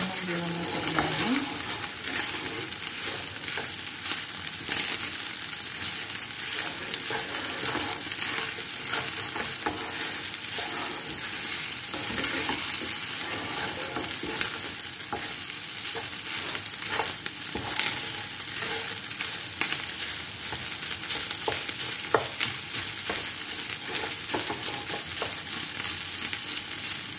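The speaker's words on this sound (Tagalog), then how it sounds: "Ganyan mo na yung tunog-tunog ng aking fried rice" Fried rice sizzles and crackles steadily in a hot pan as it is stir-fried, with scraping and tossing sounds throughout, loud and close with no talk.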